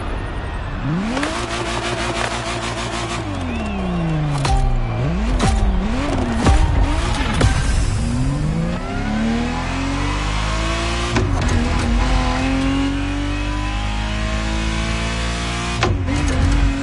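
A Ferrari Testarossa racing in The Crew Motorfest, its engine revving hard and sweeping up and down through repeated gear changes, with a steady loud roar throughout, occasional tire squeal and no talking.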